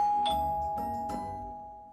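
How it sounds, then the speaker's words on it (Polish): A doorbell sounds in a house, a steady ringing tone with a few chime-like strikes that slowly fades over two seconds, with no speech over it. "to dzwonek, a to nie ja"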